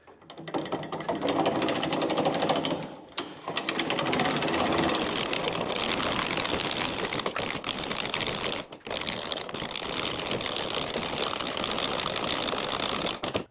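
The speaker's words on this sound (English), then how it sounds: "That was really easy to crank." A hand-cranked cable winch raises retractable shop steps with a loud, rapid ratcheting clatter, running steadily close by with a few brief pauses.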